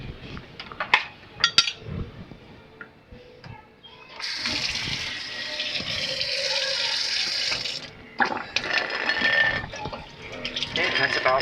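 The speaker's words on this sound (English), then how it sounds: "Now, warm water, not cold, not hot. You need warm tap water." Warm water runs from a kitchen tap in a steady rushing stream for several seconds, surrounded by clinks and handling noises in a home kitchen.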